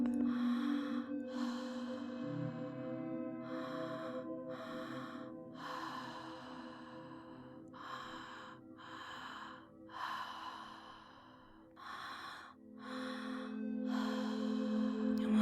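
Deep, rhythmic breathing during a guided conscious connected breathwork session: repeated strong inhales and exhales in a steady pattern, close and clear over a soft sustained musical drone, with no talking.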